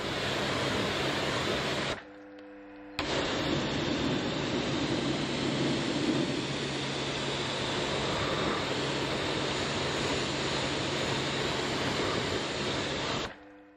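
A pressure washer rinses a car wheel arch during a mid-winter clean, a loud, steady hissing spray running close and continuously, broken by one short pause.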